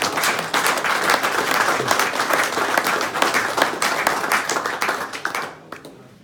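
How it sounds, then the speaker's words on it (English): A golf club presentation night audience gives a round of applause, dense steady clapping from many hands that holds for about five seconds, then tapers off quickly. "But he can really have a round of applause for Michael for the work that he does put in"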